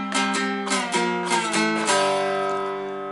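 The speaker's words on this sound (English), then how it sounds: "Because the walk down sounds like this." Dulcimer played with a slide in a short blues walk down, a few bright plucked strums stepping downward and ringing out, close and clear with no talk.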